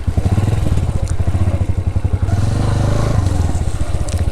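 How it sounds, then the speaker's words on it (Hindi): A motorcycle idles in freezing winter temperatures in Upper Neelum village, its engine left running after repeated trouble starting in the cold; a close, loud, steady chugging throb continues throughout. "मैंने बाइक स्टार्ट कर दिया हुआ था ताकि निकलते वक्त मुझे मसला ना हो"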